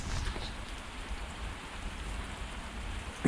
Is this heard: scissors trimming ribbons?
no